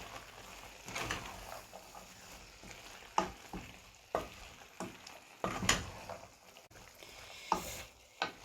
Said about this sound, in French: Je mélange bien aux légumes.